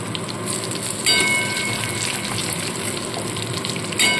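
Whole garlic cloves fry in spiced oil left over from frying chicken. The sizzle is steady and hissing, with a couple of brief louder bursts, and no talk.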